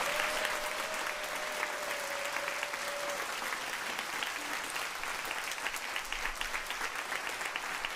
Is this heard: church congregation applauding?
yes